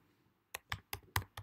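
Five quick keystrokes on a computer keyboard, close and fairly soft, clicking in an uneven rhythm against a quiet background.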